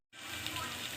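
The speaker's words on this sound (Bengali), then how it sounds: "এটা ভালো করে ভেজে নেব।" Ingredients frying in a pan with salt, turmeric and tomato for an egg pasta, giving a steady, close, broadband sizzle that begins abruptly after a brief silence and holds evenly.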